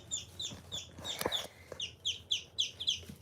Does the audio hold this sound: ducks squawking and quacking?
yes